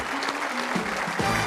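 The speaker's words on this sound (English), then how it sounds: "Give them a round of applause." Studio audience at a 1986 television game show applauding the contestants, a steady dense wash of clapping that fills the short moment, with a voice briefly heard over it.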